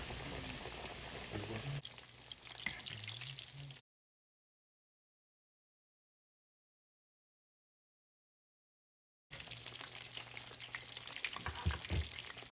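Chicken cutlets fry in a pan with a close, crackling sizzle that cuts out completely for several seconds in the middle and then returns with a few sharper pops.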